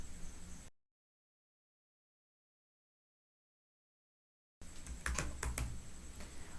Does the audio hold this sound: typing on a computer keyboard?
yes